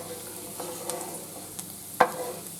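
Green beans sautéing in butter and garlic in a pan over medium heat give a soft steady sizzle with occasional stirring scrapes, one sharper clack near the end; no talking.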